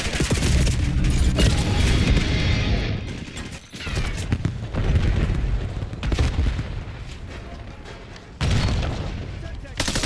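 Call of Duty: Black Ops 7 gunfire and grenade blasts: loud bursts of shots and heavy booms pile up close together. Game voice callouts sound over the barrage, and a brief lull comes before the firing starts again.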